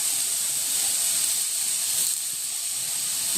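Dill leaves and other ingredients hiss as they fry in a pan, a steady broadband sizzle that runs unbroken and evenly loud throughout, with no voices over it.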